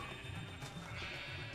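Sheep bleating on a farm inside a video game, a busy overlapping wash of bleats with background game ambience, steady and moderately close throughout.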